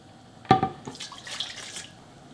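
Cold water pours briefly into a measuring cup indoors, a short splashy burst followed by faint trickling and drips.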